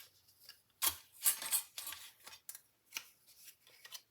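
Scissors snipping a piece of paper for a cake-shaped project box, several quick close cuts in an irregular rhythm, quiet and with no voices.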